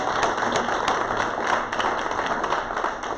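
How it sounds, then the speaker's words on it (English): An audience at a weekly Gateway Rotary Club meeting applauds two candidates. The clapping is steady and continuous, fairly close and even in level for a few seconds, with no talk over it. "A round of applause for them, because this is really hard."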